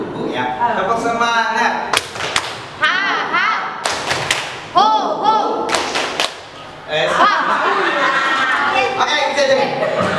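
A group performs the tepuk semangat clapping chant, sharp rhythmic claps in bursts with chanted voices and laughter between them, loud and close, with short pauses separating the rounds.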